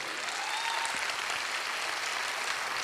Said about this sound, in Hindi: एक बार फिर जोरदार तालियां होना चाहिए संजीव सर के लिए।